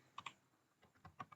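Typing on a computer keyboard while searching for Oracle Express Database in a browser: a handful of quiet, close key clicks in small irregular bursts, with no talking.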